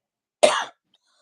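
A single short cough, close and fairly loud, standing alone between stretches of silence.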